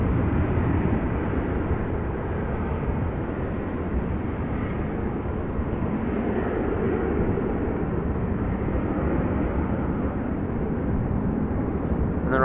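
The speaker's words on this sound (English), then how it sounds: "Going to Warsaw, Embraer 195, regular livery, flight 266." An Embraer 195 long-range airliner, thirteen years old in regular livery, roars steadily on departure at Amsterdam Schiphol, a broad, constant engine rumble with no change in loudness throughout.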